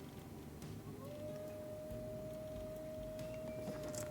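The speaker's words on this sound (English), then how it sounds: "My wolves are howling." A single drawn-out wolf howl from a zoo-building game rises then holds a long steady tone over a continuous ambient background hum, moderately quiet and unaccompanied by speech.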